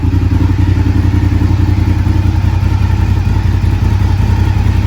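A Honda RC51 motorcycle engine fitted with a fuel pressure regulator idles loud and close, a steady throbbing twin-cylinder rumble with a mechanical clatter running evenly throughout, no voices.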